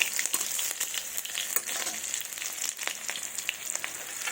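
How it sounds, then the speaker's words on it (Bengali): Nigella seeds frying in hot mustard oil give a steady, dense crackling sizzle with small pops scattered throughout, heard up close and alone. "সরিষার তেল দিলাম। এবার 5 ফোড়ন হিসাবে আমি কালো জিরে দেবো।"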